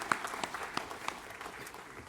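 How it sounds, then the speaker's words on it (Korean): A church congregation in Daegu applauds during a Sunday worship service, a fairly faint but steady wash of many hands clapping together for about two seconds, with no talking. "영광의 박수를 하나님께 드리겠습니다."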